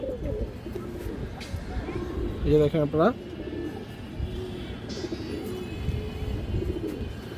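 Pet pigeons coo briefly, a soft throaty burst standing out midway while someone talks over them, with faint background murmur throughout.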